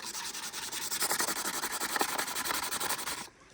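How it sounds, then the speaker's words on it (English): Resin rocks being sanded by hand, a steady rhythmic rasping of quick back-and-forth strokes, close and fairly loud, stopping just before the end. "standing out here sanding my life away"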